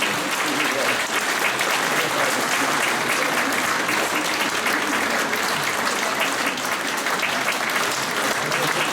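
Sustained, dense audience applause filling a hall at a city library's centenary celebration, loud and even throughout with no break.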